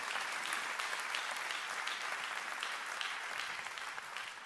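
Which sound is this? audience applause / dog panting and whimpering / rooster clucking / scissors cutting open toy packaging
audience applause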